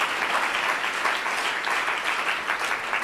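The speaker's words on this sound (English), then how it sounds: "Clap your hands for a moment" A church congregation claps their hands together in a dense, sustained burst of applause that fills the room evenly from start to finish, with no voices rising above it.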